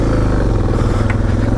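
A dirt bike ridden fast over a rough off-road trail on a dual-sport outing, its engine droning steadily and loudly throughout with clattering suspension and chassis noise from the bumpy ground, no voices.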